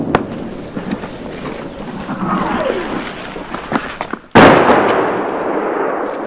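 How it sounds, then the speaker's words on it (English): Russian artillery shells landing near a Ukrainian front line, heard as scattered dull booms and cracks over a rumbling outdoor background, ending in a sudden loud, sustained blast-like roar. "The shells start landing closer as the Russians adjust their aim."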